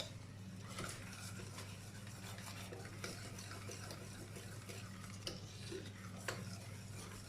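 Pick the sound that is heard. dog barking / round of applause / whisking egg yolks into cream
whisking egg yolks into cream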